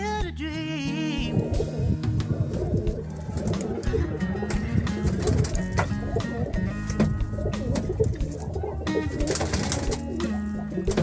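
Pigeons coo continuously, with several birds overlapping in a dense, close chorus of low rolling calls and occasional wing flutters over background ambience.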